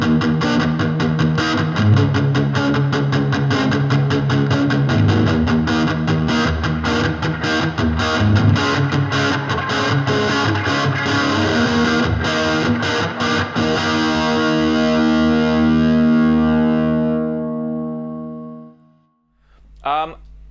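A Kramer Baretta Special electric guitar fitted with an EVH Frankenstein pickup plays chugging palm-muted distorted riffs, loud and rhythmic, ending on a ringing chord that fades out, followed by a short pluck.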